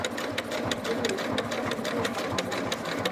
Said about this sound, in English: I'm going to sew around the side out here